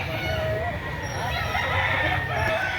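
A bull stag gamecock offered for sale at a market behind SM Lipa, Batangas, crows loudly nearby over a bustle of chickens and background noise.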